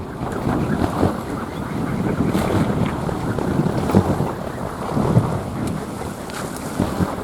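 Strong gusting wind buffets a kolecer, a Sundanese bamboo propeller wind toy, roaring steadily with rattling surges throughout, close and loud, with no talk.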